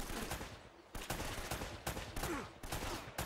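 Shotgun blasts in a firefight in the video game Uncharted: Drake's Fortune, several sharp booming shots at irregular intervals over a dense background of battle noise.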